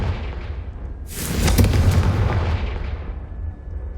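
A spell blast in a wizarding video game bursts out as a loud, broad boom at about one second, rolling on for roughly two seconds before fading into a low rumble, with no talk over it.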